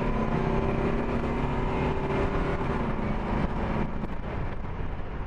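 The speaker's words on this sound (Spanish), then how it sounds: "ahora tenemos una respuesta del turbo mucho mejor" A turbocharged car engine pulls hard under acceleration, a steady, loud, rough roar with wind buffeting throughout the few seconds.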